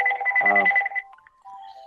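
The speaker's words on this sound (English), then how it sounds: "Somebody's phone's going off." A mobile phone ringtone goes off in a room, a bright tonal melody lasting about a second, followed by a few softer electronic beeps and tones as it stops.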